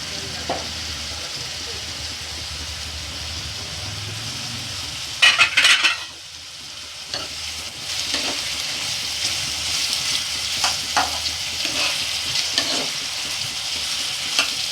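Green chillies and tomatoes frying in a chicken curry pan, with steady sizzling and frequent stirring scrapes, a brief louder clatter partway through, then a softer hiss before the frying builds again.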